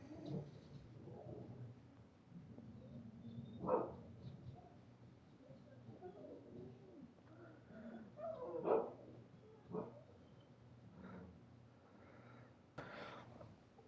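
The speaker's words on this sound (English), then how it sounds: "My mom's dog started to freak out." A pet dog barking and getting agitated indoors at something passing on the street: scattered barks and yelps at irregular intervals, moderately close, over a quiet room hum.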